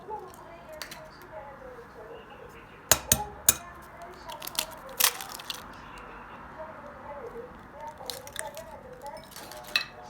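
Two eggs being cracked into a bowl with sugar while making molasses, turmeric, cinnamon and ginger Christmas cookies: a few sharp, brief cracks near the three-second mark, followed by scattered light taps and squishy handling noises at close range.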